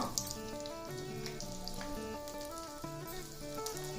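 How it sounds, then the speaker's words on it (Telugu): Large onion pieces frying in a pan with cardamom for restaurant-style butter chicken, a steady soft sizzle under strong background music. "వేసి కొద్దిగా దోరగా వేగనిద్దాం పెద్ద ఉల్లిపాయ ముక్కలు"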